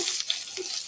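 A bay leaf and cumin seeds hit hot oil in a frying pan, making a close, bright hiss of sizzling that holds steady for about a second.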